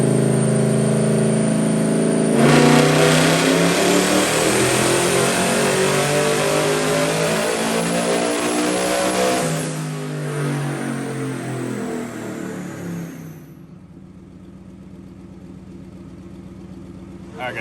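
A twin-turbo engine in a 1932 Ford on a dyno, loud and close, revs up hard, holds a high roaring pull for several seconds, then winds down to a rough idle.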